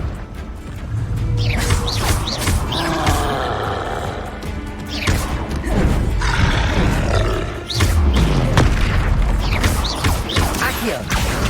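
Fiery spell blasts from the Hogwarts Legacy video game, with loud roaring explosions and crashing impacts that overlap in a dense, continuous battle din alongside shouted voices.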